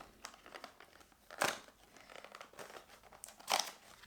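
Crinkling and tearing of packaging on a Yozu Ritual beauty product box, with two louder rips among softer rustles, close and with no talking.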